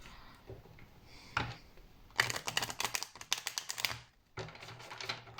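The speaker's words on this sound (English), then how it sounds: "Let me just shuffle, shuffle, shuffle." Tarot cards shuffled by hand close up, a rapid run of crisp riffling flutters and soft slaps that start and stop in bursts, with no talking.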